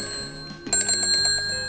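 A Walmart airhorn alarm clock goes off, its harsh, loud ringing tone starting and stopping, then blaring steadily close by with no talk over it.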